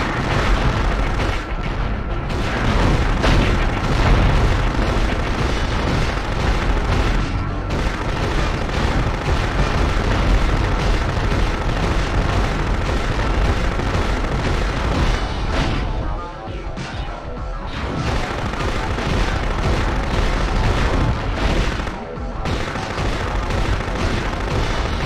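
Weapons firing and explosions in the PlayStation game Future Cop LAPD: a loud, nearly unbroken roar of gunfire and booming blasts that dips briefly only a couple of times.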